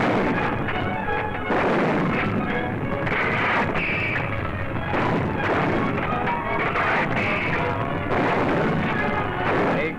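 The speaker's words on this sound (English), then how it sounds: "the gunners hurled death and destruction across the valley, smashing the German positions" Wartime artillery fire shelling German positions across a valley, a continuous dense roar of booms and crashes with no clear gaps, loud throughout.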